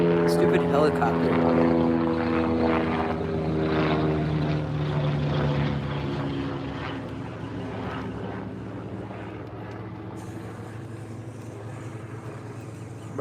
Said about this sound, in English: Stupid helicopter.